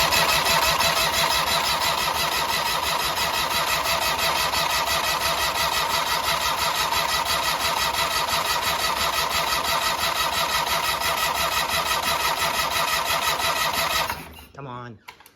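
A big riding mower's engine, primed with a splash of gas after a fuel leak repair, runs with a loud, rapid, steady chugging beat before abruptly cutting out near the end.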